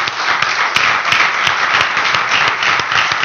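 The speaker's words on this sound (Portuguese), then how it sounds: "Você pode aplaudir o nome do Senhor?" A church congregation applauds loudly and steadily, many hands clapping together in a dense, continuous wash of sound.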